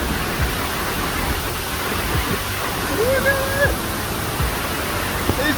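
A huge waterfall in full rainy-season flow on Koh Samui gives a steady, loud broadband roar that fills the whole clip and stays constant from start to finish.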